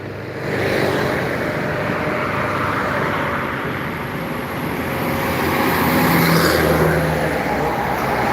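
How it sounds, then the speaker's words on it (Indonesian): Buses and trucks pass along a roadside on the Jalan Lintas Timur highway near Palembang, a loud continuous roar of heavy engines and tyres swelling and easing as vehicles go by close at hand. "Lagi ngonten aja bang di pinggir jalan tentang bus dan truk yang melintas di Jalan Lintas Timur Palembang"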